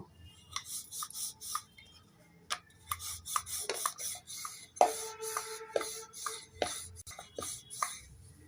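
A rolling pin works flatbread dough for a stuffed breakfast snack, giving repeated short rubbing, scraping strokes in an uneven rhythm with occasional light knocks against the board, close and fairly quiet.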